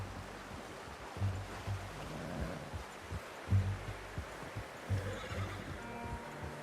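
A horse in Red Dead Redemption 2 gives several close, loud neighs and snorts at uneven intervals, with hoof clops and soft outdoor ambience between them and no talk.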